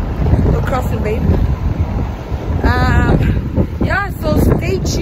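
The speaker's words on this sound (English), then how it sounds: "It's really windy today." Strong gusts of wind batter the microphone outdoors in a continuous loud rumble, with people talking in bursts over the roar.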